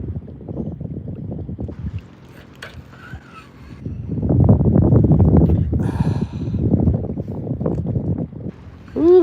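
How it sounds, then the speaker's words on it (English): Wind gusting over open water during a fishing outing from a small boat, a broad rushing roar that swells louder midway and stays strong, with buffeting against the microphone. "Ooh, the wind is picking up."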